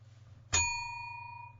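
A single bright bell ding, like a bicycle bell, rings out once and rings on with a clear fading tone over a faint steady hum.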